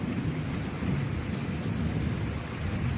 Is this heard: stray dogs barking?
no